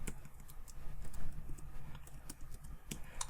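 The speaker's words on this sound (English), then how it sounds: "I got a new keyboard. It's an ergonomic keyboard, so I have to get used to it." Fingers type steadily on an ergonomic computer keyboard, a close run of quick, light key clicks with an uneven rhythm over a low background hum and no talking.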